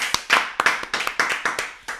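Roughly a dozen sharp, separate hand claps ring out in a quick, slightly uneven rhythm, close and crisp with short gaps between them and no voices.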